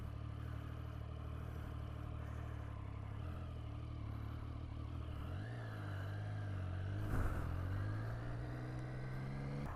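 A 2015 Triumph Street Triple RX motorcycle engine runs steadily at idle while the bike turns, its tone shifting slightly with a brief rise in pitch midway, heard up close with no talking.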